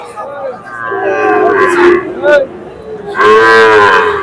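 Cattle low repeatedly at a livestock market in Madaripur where small bulls, heifers and Sahiwal calves are sold: several loud, close moos in succession over a murmuring crowd.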